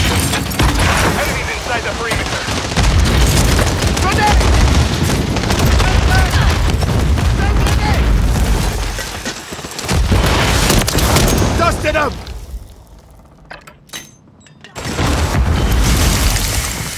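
Grenade explosions and gunfire erupt in Call of Duty Modern Warfare 3 during a Hardpoint match, loud booms and bursts layered over constant battle noise, with shouted voices, a brief lull near the end, then more blasts.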